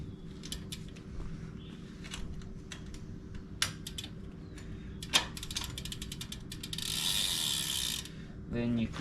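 A bicycle chain being fed through the rear derailleur pulley wheels, a close run of small ticking, ratcheting clicks in uneven bursts, with a brief rush of rattling near the end.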